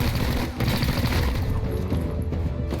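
Gunfire in the tactical game XCOM: Chimera Squad, a loud dense volley of overlapping shots and booms, sustained across the moment with no clear pauses.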